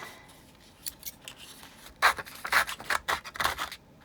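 Close, quiet snipping and scraping of scissors cutting paper in a series of short strokes, growing busier toward the end.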